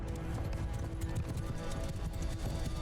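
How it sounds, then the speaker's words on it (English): Horses gallop in a Mount & Blade II: Bannerlord battle as horse archers ride, a steady dense drumming of hooves that stays loud and continuous throughout. "Horse on move! Horse archers up over here."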